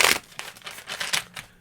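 Oracle deck cards being shuffled by hand: a series of brisk papery riffles and crinkles in quick bursts, close and fairly quiet, with no voices.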